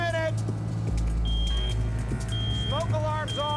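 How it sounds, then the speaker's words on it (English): A smoke alarm's high, steady electronic beeps sound in repeated bursts over a loud, low rumbling roar of an indoor fire simulation, with chirping tones weaving through. "Smoke alarms off."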